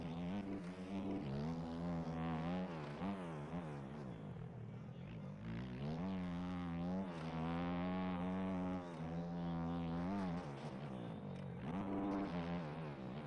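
A motocross bike engine in a video game drones and wavers, bogging with pitch dipping and rising as it labors and revs unevenly, steady and fairly loud throughout.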